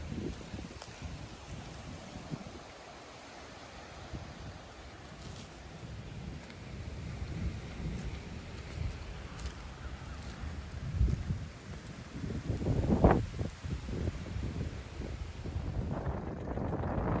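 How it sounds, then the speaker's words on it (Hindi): Steady wind roars and buffets across the recording in a village storm, with broadband rushing and gusts that swell and fade, suggesting rain mixed with strong wind outdoors. "बारिश आ रही"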